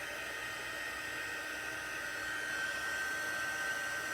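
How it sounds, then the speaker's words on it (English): A heat gun blasts steadily for the whole stretch, melting embossing powder in a craft project; loud, constant broadband hiss like a hair dryer, close by, with no talking. "I'm going to heat this up and you get to see the magic of embossing."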